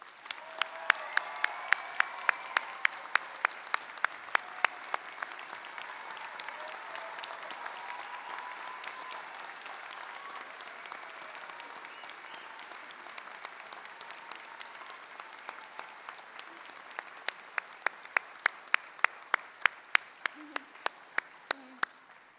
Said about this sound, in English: please join me in giving Dr. Washington a Dutchess Community College round of applause